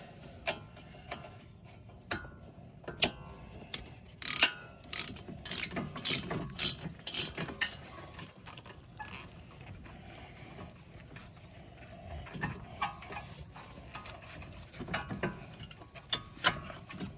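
Ratchet clicking in short bursts while a brake bolt is snugged down on a 2012 Audi A3 TDI during front brake and rotor work, the mechanical ticks close and crisp with pauses between strokes.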